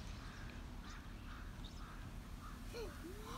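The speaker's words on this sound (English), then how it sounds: "There are so many birds." A flock of many birds calls at a distance, scattered quacks and caws rising faintly over a low, steady background rumble, with a couple of sliding cries near the end.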